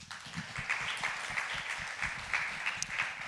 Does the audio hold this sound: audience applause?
yes